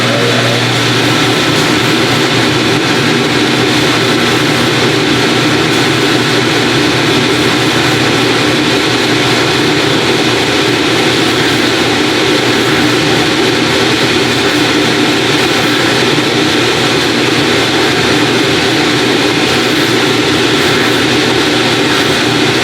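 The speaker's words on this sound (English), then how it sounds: "I'm gonna go to the grinding machine." Grinding machine edging 55 durometer EVA foam for an orthotic, a loud, steady broadband roar from the running grinder that holds throughout without talking.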